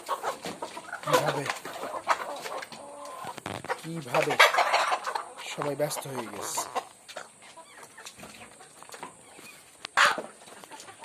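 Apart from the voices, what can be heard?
native chickens clucking in cage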